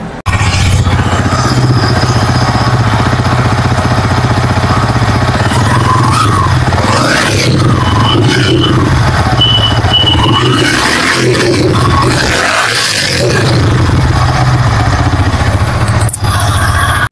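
A Yamaha R15 V4 motorcycle engine runs close by, idling with a steady rumble, then revs up and down in several rising and falling sweeps before settling back to idle.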